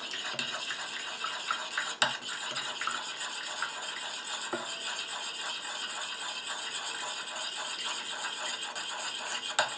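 Water being stirred gradually into a homemade floral hand cream emulsion, giving a soft continuous whisking and swishing with occasional light clicks of the utensil against the bowl, quiet and close with no talk.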